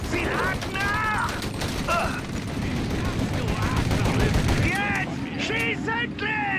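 Dense enemy gunfire in the video game Mafia, continuous rattling machine-gun bursts and shots layered thickly, with voices talking over the shooting throughout.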